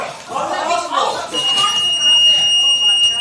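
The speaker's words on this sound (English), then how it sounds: "then they set off the alarm" Courtroom security alarm going off, a loud, sustained high electronic tone that starts partway through while people talk over it.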